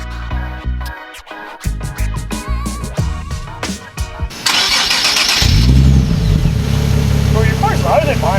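Nissan 370Z Nismo fitted with AAM resonated short tail exhausts starts up midway, a loud engine catch that settles into a steady, rumbling idle close by, after a stretch of talk and clatter.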